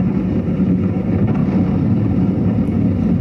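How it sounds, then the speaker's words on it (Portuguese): A jet ski accelerating on a lake gives off a steady, continuous engine drone at a distance, with wind noise over the microphone and no talk. "o jet como tá acelerando."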